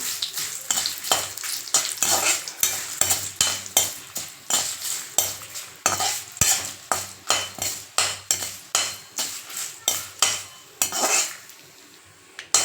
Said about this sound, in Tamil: கூடவே ஒரு ரெண்டு கத் ரெண்டு கொத்து கருவேப்பிலை போட்டு இதையும் சேர்த்து நல்லா வறுத்துக்கலாம்